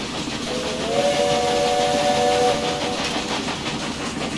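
A steam goods train whistle sounds in the Railway Empire video game, a steady multi-tone blast lasting about two seconds over a continuous hissing, rumbling railway background, with no talk.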